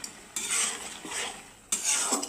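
A spoon scrapes and stirs boiled potatoes in a metal pot for a Bengali aloo posto, two long scraping sweeps close by with a short pause between them.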